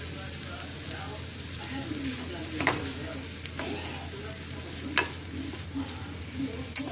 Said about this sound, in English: So just keep moving it around and sauteing until the vegetables are soft.